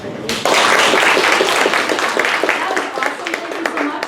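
Live audience at a storytelling comedy show bursts into loud, sustained applause that stays dense throughout and thins slightly near the end, with a few cheers mixed in.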